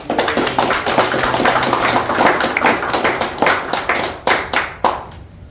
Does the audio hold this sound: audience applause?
yes